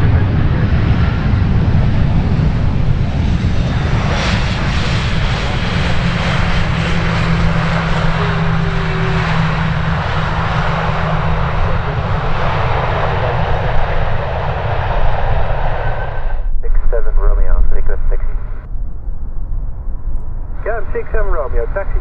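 Aircraft engines roar loudly and continuously at Schiphol Airport on a foggy day. The sound swells to a steady blast for about sixteen seconds, then drops away, and voices talk over radio chatter.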